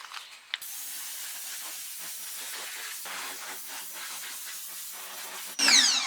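A pressure washer with a spinning whirling nozzle sprays in a steady broad hiss, pausing briefly at the start and then surging louder near the end.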